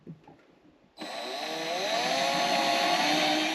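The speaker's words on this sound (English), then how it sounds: "Drill one side's pilot hole." A power drill bores a pilot hole through a boat hull during a haul-out, the motor starting abruptly after a few faint handling sounds and then whining loud and steady, rising slightly in pitch as the bit cuts.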